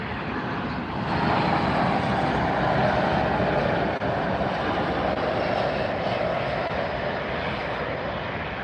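A departing airliner climbs out after takeoff at Miami airport, its engines a steady, loud broadband roar that swells slightly after the first second and holds strong without letup.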